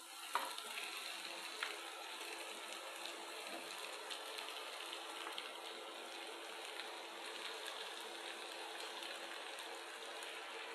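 Fish sizzles steadily in a hot pan of oil for Bengali muri ghonto, a constant close crackle with occasional stirring clatter and no talking.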